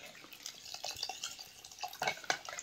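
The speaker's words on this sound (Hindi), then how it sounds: "तो पानी इसमें थोड़ा ज़्यादा डाल लूँ।" Water is poured into a pot of goat trotters cooking in a winter-special dish, a faint splashing and trickling with small irregular bursts, close by and without talk.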